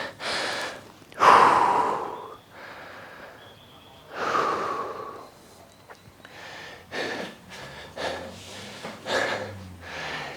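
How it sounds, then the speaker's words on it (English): A person catching their breath after exertion, with heavy, ragged inhales and exhales and occasional snorting gasps, close and uneven across ten seconds, no speech. "let me just catch my breath"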